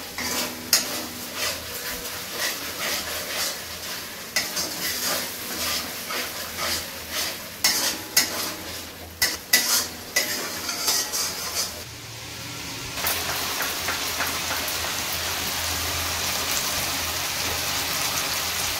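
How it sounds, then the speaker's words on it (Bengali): Masala with chopped tomato, turmeric and salt being stirred and fried in a pan, with repeated scraping and clinking of a utensil against metal over a steady sizzle that grows denser toward the end. "নেড়ে চেড়ে কষিয়ে নেবো মশলাটা"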